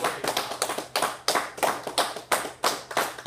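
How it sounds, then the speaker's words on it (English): Members of a church congregation clap their hands in praise during a Sunday service, a close, steady run of sharp rhythmic claps with no voices over them. "Can you give him a hand clap of praise this morning?"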